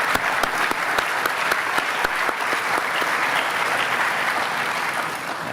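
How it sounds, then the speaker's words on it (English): A lecture audience applauds with steady, dense clapping from many hands, loud and close, holding even for several seconds before easing slightly at the end. "give him a little bit of an applause here for all of his service over time."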